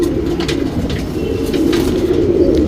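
An HMT breed pigeon coos close by in a low, steady, throaty rolling murmur that continues through the whole moment, with faint light rustles above it.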